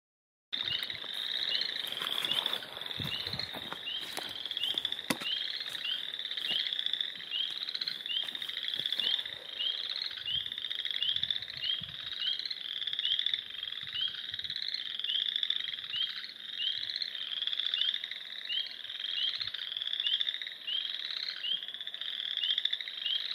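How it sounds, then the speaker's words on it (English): Frogs croaking at Marty Marsh on a woodland hike, a dense, steady chorus of rapid repeated high calls pulsing continuously, close and fairly loud, with no talking. "I can never pass up Marty Marsh without a little stop to listen to the frogs"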